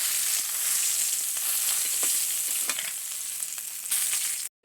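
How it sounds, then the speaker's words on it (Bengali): A katla fish head fries in hot oil with a loud, steady crackling sizzle, dense spitting pops running throughout before cutting off abruptly at the end. "মাছের মাথাটাকে ঘুরিয়ে ঘুরিয়ে বেশ সুন্দর করে ভেজে নেব।"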